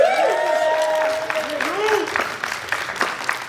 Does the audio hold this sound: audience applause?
yes